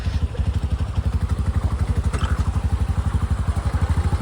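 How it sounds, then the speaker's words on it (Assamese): Motorbikes idle and rumble while crossing floodwater beside a river, a steady close engine throb with fast rhythmic pulsing that runs throughout, with a faint clatter over it. "এইফালে বাইকসমূহ কেনেকৈ পাৰ হৈছে চাওক"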